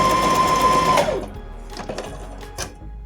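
A sewing machine runs at a steady, loud whir while stitching a zigzag seam, then stops about a second in, followed by scattered close clicks and handling sounds.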